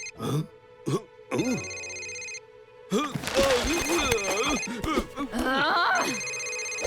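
A phone rings in a library with a repeating electronic tone, then keeps ringing under hushed voices speaking nearby.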